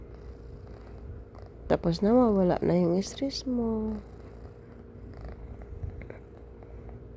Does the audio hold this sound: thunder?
no